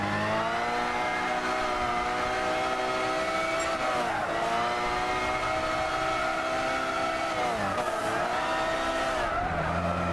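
Spanish race car in Gran Turismo 6 screaming along a circuit, its engine holding a high rev pitch with sharp dips at gear shifts and corners, loud and steady for the whole stretch with no talking.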